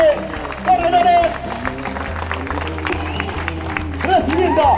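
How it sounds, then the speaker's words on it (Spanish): A crowd applauds the thirteen riders at a road cycling race, the Clásica Valle de Aranguren, sustained clapping and cheering mixed with music and a loud announcer's voice over a public address system. "Fuerte el aplauso para los 13 corredores."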